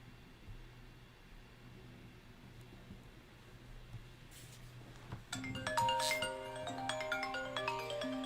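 A phone rings during a live day-trading stream, a faint patterned electronic ringtone rising over low background hum in the second half, with no talk.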